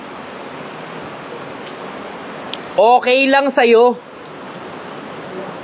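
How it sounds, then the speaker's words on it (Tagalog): Steady rain falls with a constant hiss throughout, while a person briefly speaks over it in the middle. "Kasi umuulan eh."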